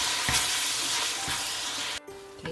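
Ground beef seasoned with beef powder and black pepper sizzling and browning in a pan for chili, a steady close frying hiss broken by brief stirring scrapes, with a short near-silent dip just before the end.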